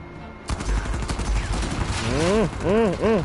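Gunfire erupts in the video game Uncharted 4 during a sniper encounter, a dense loud barrage of shots after a quiet start, with a voice talking over it toward the end.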